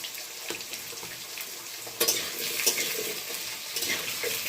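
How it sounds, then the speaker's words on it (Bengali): Potatoes fry in a pan while being stirred for a Bengali drumstick curry, a steady close sizzle with scraping spatula strokes and a few louder stirs. "আলুটা একটু ভাজা হয়ে গেছে"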